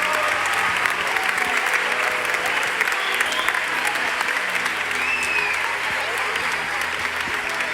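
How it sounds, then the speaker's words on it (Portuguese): A church congregation gives a steady, even round of applause for the children, sustained throughout, with a faint murmur of the crowd underneath. "Elas merecem uma salva de palmas"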